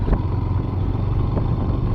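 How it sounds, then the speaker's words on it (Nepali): A motorcycle rides up a hill road from Waling in Syangja toward Bahunthan, giving a continuous low engine rumble mixed with rushing wind and road noise, with a few faint clunks. "बाइकले त सजिलै ल्यायो"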